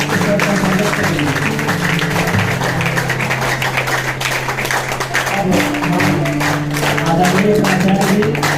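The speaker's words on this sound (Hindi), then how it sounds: "आज सभी खड़े होकर तालियों की बजाबट के साथ स्वागत करेंगे" Audience at a school's 25th anniversary celebration claps to welcome the principal, a steady wash of applause over loud music and some voices, lasting throughout.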